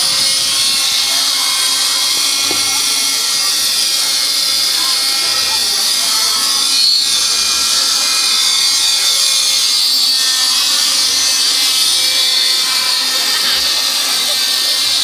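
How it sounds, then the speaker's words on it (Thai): A small aircraft performing at an air show gives a steady, buzzing engine drone that holds loud and constant throughout, with a voice talking over it. "ก็ตอนนี้มาชมนะครับเครื่องบินเล็กกันก่อนนะครับ"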